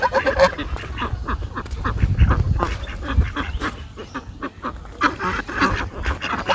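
A flock of domestic ducks quacking as they walk along a village path, dense overlapping calls close by and fairly loud throughout, with no talk.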